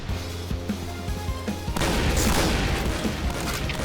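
Gunfire in the online shooter Point Blank, a fast run of rifle shots that turns into dense continuous automatic fire with booming impacts, loud and close.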